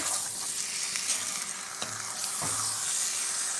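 Large pieces of chicken liver fry for a pepper fry while being stirred in a pan, a steady close sizzle punctuated by a few scraping spatula strokes.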